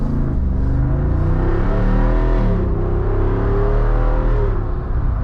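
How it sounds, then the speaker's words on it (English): A deep, throaty V8 engine of a 2024 Jeep Wrangler Rubicon 392 revs under light throttle, rumbling loudly and rising then easing, close by with no talking. "that was just a light throttle application on the Wrangler 392"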